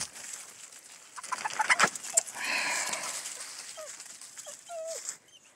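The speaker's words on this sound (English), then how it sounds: "It's just a chicken." A chicken clucks and squawks close by outdoors near a house porch, a few short calls scattered through a noisy background with a dog nearby.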